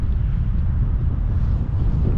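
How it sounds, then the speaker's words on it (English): Wind gusts outdoors at a drained lake during metal detecting, a steady, loud low rumble buffeting the microphone throughout with no clear talk. "It's getting windy."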